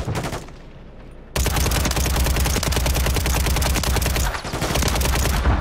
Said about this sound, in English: What the fuck you shooting at?